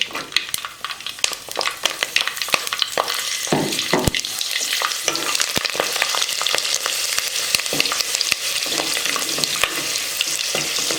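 Garlic, mustard seeds and fenugreek fry in hot oil for a sardine curry, giving a loud, continuous crackling sizzle dense with sharp pops and spits throughout.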